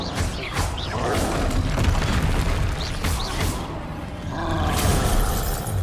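Incendio fire spells in the video game Hogwarts Legacy roar and crackle with heavy booms and shattering bursts, a loud, continuous rumble that swells again near the end.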